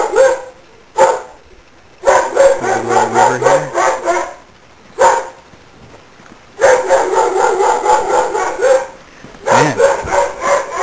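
A dog barks in repeated rapid bursts on a street in Japan, loud and fairly close, with short pauses between volleys and a steady high electrical hum underneath.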